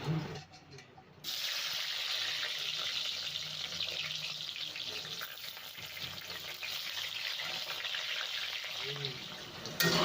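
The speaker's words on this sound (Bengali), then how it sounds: "এবার এই তেলে বেগুনগুলো ভেজে নেব" Brinjal pieces crackle and sizzle steadily in hot oil for a Bengali mixed vegetable dish, a loud, even frying hiss that starts abruptly after a brief quiet moment and continues to the end, alone.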